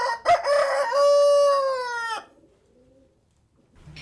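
A rooster crows once, long and loud, close by, followed by a low fading call and near silence.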